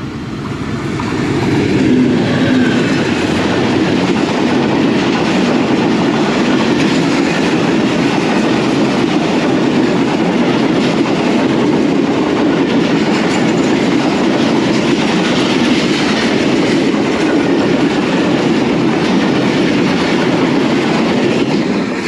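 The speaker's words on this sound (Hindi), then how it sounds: "ट्रेन पास हो गई, हबीबाबाद जाके रुकेगी" The Allama Iqbal Express, led by an AGE-30 Blue Tiger diesel locomotive, rolls past near Habibabad station in Pakistan, a loud sustained rumble of wagons with clickety-clack wheels, continuous throughout.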